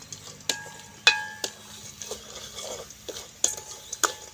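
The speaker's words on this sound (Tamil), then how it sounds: "சீனியும் ரவ்வையும் உண்டா கலந்துட்டோம்." A spoon scrapes and clinks against a pan while sugar and semolina are stirred together, giving soft gritty scrapes punctuated by sharp metallic taps at irregular intervals, close and fairly quiet.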